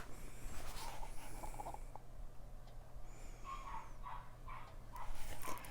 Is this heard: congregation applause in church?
no